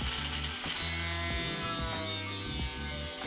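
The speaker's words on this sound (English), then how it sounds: "but a couple still needed some angle grinder work to fit." Angle grinder cutting wooden wall studs to fit new windows during a studio remodel, a steady close buzzing whine that changes pitch as it bites, no talking.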